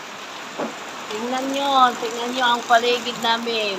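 Heavy rain falls at night around a house, a steady broadband hiss running beneath a person speaking close by.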